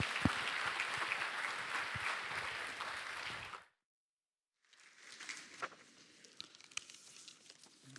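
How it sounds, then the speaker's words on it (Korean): A church congregation at a Korean Sunday service applauds to welcome a guest pastor, broad dense clapping that cuts off abruptly into silence, then softer scattered claps and rustling return at a lower level. "우리 나오실 때 크게 박수함으로 환영하겠습니다."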